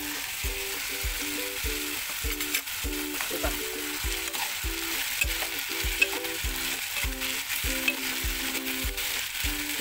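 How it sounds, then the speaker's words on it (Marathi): Capsicum frying in a pan with oil, giving a steady, close sizzle throughout along with repeated rhythmic scraping of stirring, and no talking. "ह्याच्यामध्ये आपण शिमला मिरची टाकून भाजून घेऊ।"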